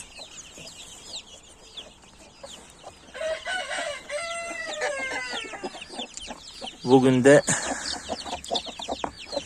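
Indian-breed chickens cluck and a rooster crows in a pen, the calls rising loudly near the end, with someone speaking briefly over the flock.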